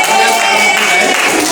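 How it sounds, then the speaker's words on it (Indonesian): Students clap together in a classroom during a lesson, a loud, close burst of dense clapping that lasts only a moment. "Mari kita beri tepuk tangan."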